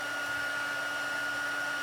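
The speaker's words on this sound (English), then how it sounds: "For those of you that have never used the Stampin' Up! Heat gun, it gets really hot." A Stampin' Up! heat gun blows with a steady, unbroken whoosh and a faint tonal hum. The loudness stays constant throughout, and no one speaks.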